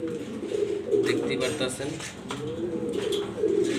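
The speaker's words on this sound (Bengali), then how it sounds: "ঝর্ণা শাটিং কবুতর যারা পছন্দ করেন তাদের জন্য ভিডিওটা।" Jhorna shatting pigeons give soft, repeated throaty coos close by, with someone talking over them.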